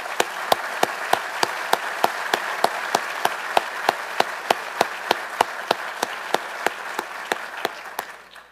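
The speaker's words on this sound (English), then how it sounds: "So a round of applause for Dean Johnson." Audience applause at an Army War College faculty recognition ceremony for Dean Johnson: a steady bed of crowd clapping with one sharp, regular clap standing out in even rhythm throughout, fading at the close.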